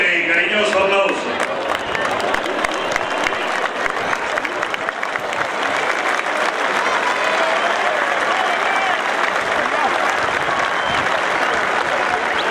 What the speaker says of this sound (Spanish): recibámosla con un fuerte y cariñoso aplauso